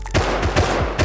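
Rapid gunfire in the video game Rust, roughly five close, loud shots in an even rhythm within about a second.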